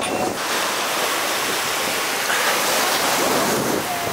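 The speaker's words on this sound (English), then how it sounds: "The waves are pumping right now." Hawaiian ocean surf rushing in a steady, continuous wash, heavily mixed with gusting wind noise against the microphone, with no talking.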